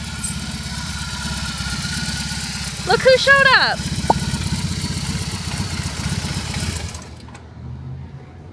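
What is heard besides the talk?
motorcycle engine running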